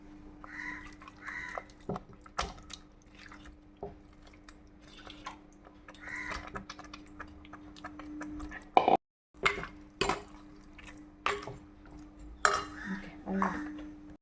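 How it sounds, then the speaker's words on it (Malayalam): Fish pieces drop into a simmering Kerala-style chili masala in a pot, making scattered soft plops, clinks and clattering utensil knocks, with quiet voice sounds in between. "അരപ്പൊന്ന് മൂത്ത് വരുമ്പോൾ നമുക്ക് ഇതിലേക്ക് മീൻ കഷ്ണം ഇടാം."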